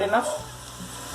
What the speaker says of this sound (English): The onion fried enough,